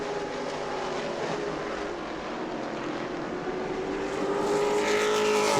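Race cars circle an oval track during a New Smyrna Hoosier Series event, a loud, continuous engine roar with a rising whine near the end as cars pass.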